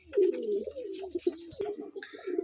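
Rajshahi Giribaz pigeons coo close by in a rolling series of low throaty calls with a few sharp clicks or wing flutters mixed in, fairly loud and uninterrupted by talk.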